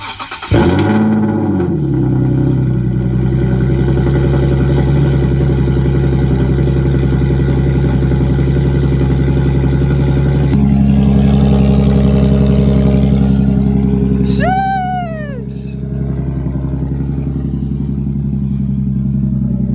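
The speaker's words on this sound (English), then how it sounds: "But since there's no exhaust on it now, gotta give her a little start up." A Nissan 370Z with no exhaust fitted cranks and fires up, settling into a loud, raw, rumbling idle that holds steady, then jumps in a quick rev blip before dropping back to idle.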